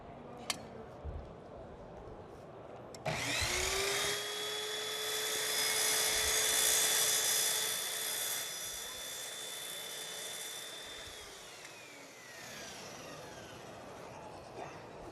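A miter saw spins up and cuts through a clamped profile, a steady high whine that lasts about eight seconds before it winds down, loud and close with no talking over it.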